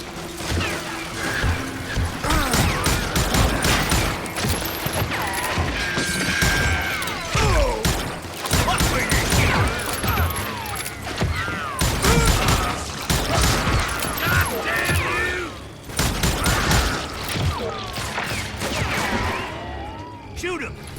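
Gunfire in the western shooter Call of Juarez Gunslinger on Switch, loud repeated shots and crashing impacts in steady bursts, with a voice talking over the action.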